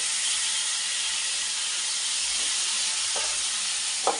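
Brinjal pieces drop into a pan of frying tomato and onion, giving a steady, loud sizzle and hiss with a few faint stirring knocks near the end.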